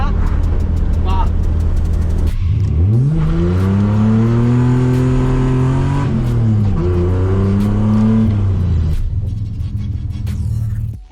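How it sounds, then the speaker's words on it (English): A Nissan Skyline launches hard, its engine climbing loud and close through a long rising rev, dropping briefly, then pulling up again before cutting off. "So I really want to try and launch the car"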